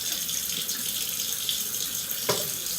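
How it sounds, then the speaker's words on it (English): Tap water runs steadily into a kitchen sink while dates are rinsed, a close, continuous splashing hiss with one brief knock near the end. "So I'm rinsing off the dates,"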